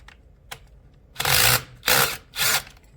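A power screwdriver backs out the screws holding the drain pump on an LG front-loading drum washer, sounding as three short, loud whirring bursts close by after a couple of faint clicks.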